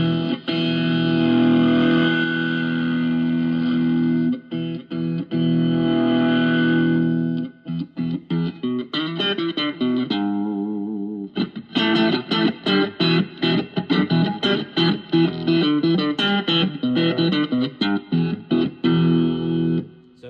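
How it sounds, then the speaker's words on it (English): Electric guitar run through a Joyo Oxford Sound distortion pedal, loud and saturated, with long sustained chords that break into choppy, rhythmic riffing and stabbing palm-muted bursts, no voices. "Maybe just a different type of distortion."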